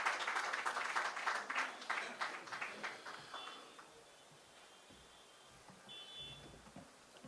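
An audience at an Urdu mushaira, Shaam e Urdu 2023, claps to welcome a poet. The dense applause tapers off after a few seconds into a quiet hall.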